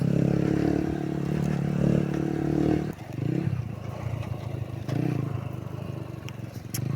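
A modified Yamaha YBR motorcycle engine runs with a steady, loud drone that drops briefly near the three-second mark, then continues at a lower, rougher idle with some clattery scrapes on top.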